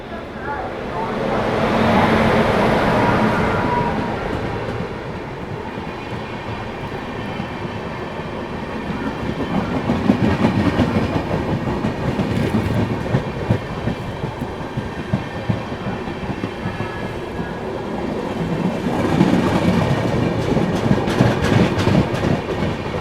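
The Delhi–Alipurduar Sikkim Mahananda Express rolls past nearby, a continuous rush of wheels and steady clickety-clack over rail joints swelling and easing over twenty-odd seconds, with faint background noise.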